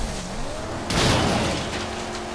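Car in the Mad Max video game bursting through a gap, a sudden loud crunching impact and broadband rush over a steady engine drone, close and dominant.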